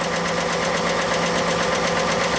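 A 2018 Ford F-150 engine idles with a fast, even, metallic ticking from the top end riding over a steady close-up drone.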